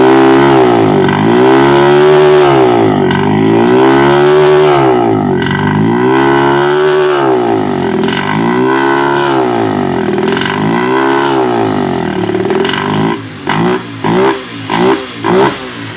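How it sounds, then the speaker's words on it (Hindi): Yamaha FZ-S V4 motorcycle engine revved repeatedly in slow, regular throttle blips during a throttle body cleaning spray, loud and close, ending in a quicker series of short choppy revs. "बाइक को करना है स्टार्ट और थोड़ा थोड़ा आपको थ्रोटल देना है और स्प्रे करना है इस हॉल में।"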